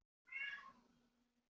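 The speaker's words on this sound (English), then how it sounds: "Can you hear the cat meowing in the background?" A cat meows once at a door in the background, a single faint, drawn-out cry that trails off quietly.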